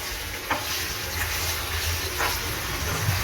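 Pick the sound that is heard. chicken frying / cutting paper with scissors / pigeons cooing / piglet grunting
chicken frying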